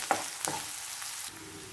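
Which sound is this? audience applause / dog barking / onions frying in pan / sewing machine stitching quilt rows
onions frying in pan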